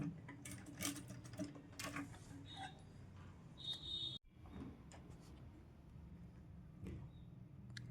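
A sewing machine stitches a double-folded hem on a small child's langa blouse, a quiet, steady ticking whir with a brief break partway through, and no voices.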